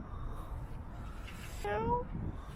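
A cat gives a short meow near the end, heard close by over a noisy outdoor background during a snowy day.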